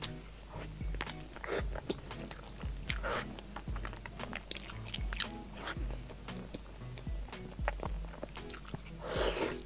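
Close, crisp bites and chewing of durian flesh, a dense run of soft crunches and wet mastication sounds repeating steadily throughout.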